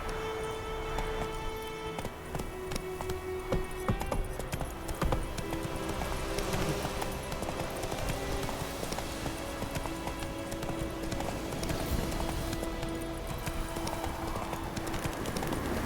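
Roach the horse gallops in The Witcher 3, a steady clip-clop of hooves running through the whole stretch beneath a continuous musical score, with no voices.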